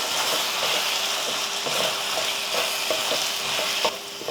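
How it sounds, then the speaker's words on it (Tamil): Steady sizzling of tomatoes frying in a pan as sambar powder is stirred in, a spoon scraping and stirring in regular strokes, close up, with no talking. "சாம்பார் தூள் சேர்த்துட்டு அதை கலந்து விட்டுருவோம்"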